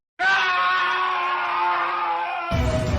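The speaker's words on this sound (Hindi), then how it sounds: "एक चीख ने पूरे ऑफिस की खुशी के माहौल को सन्नाटे में बदल दिया।" A single loud, sustained scream in an office, a high shrill voice starting abruptly and holding for over two seconds before cutting off into a low thud.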